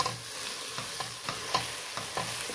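Shrimp paste frying over very low heat in caramelized sugar while being stirred for homemade sardine padaek; a soft, steady sizzle runs throughout, broken by regular scraping strokes of the spatula roughly every half second.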